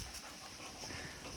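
Dogs pant softly on a walk outdoors on a sunny day, quick faint rhythmic breaths close by with no talking.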